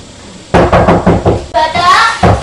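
A door is pounded on in a rapid series of loud, close knocks, with an urgent voice shouting over the later blows.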